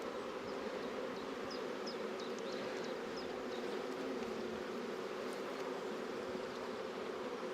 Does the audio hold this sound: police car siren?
no